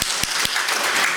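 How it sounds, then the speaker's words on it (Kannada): Three sharp hand claps, evenly spaced and loud, from a speaker at a book launch event, alone without talk over them. "ಅದಕ್ಕೆ ನಾನು ಇಲ್ಲಿ ಚಪ್ಪಾಳೆ ತಟ್ತೀನಿ."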